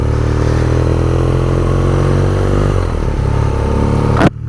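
A 2018 BMW R nineT Pure with its boxer engine on the road, a loud, steady engine drone heard up close, shifting slightly in pitch before cutting off sharply at the end.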